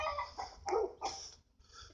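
A rooster crows nearby, a rough broken call with two or three bursts over steady low background noise.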